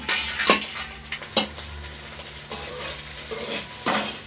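Vegetables frying in a pan ahead of making egg pasta: a low sizzle under sharp, recurring scrapes and clinks of a utensil stirring against the pan, close by with no voices.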